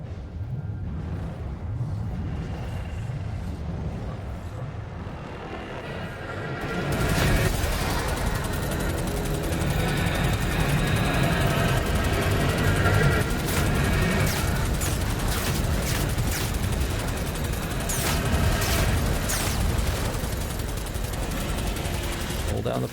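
Sustained gunfire in DOOM: The Dark Ages: a loud, unbroken stream of rapid shots and booming impacts that swells after a quieter opening and keeps going steadily.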